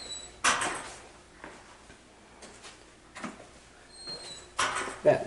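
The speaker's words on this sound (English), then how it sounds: "That creaking sound is not exactly the most pleasant." Sparse creaks and knocks sound inside a dark mine attraction in Arizona, with short bursts spread apart over a hushed background and a faint high whine.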